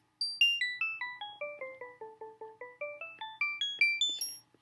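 A bright electronic tone sweeps down in stepped beeps and then climbs back up, tracing a quadratic curve as a sound graph; about two dozen short notes in even rhythm, clear and alone.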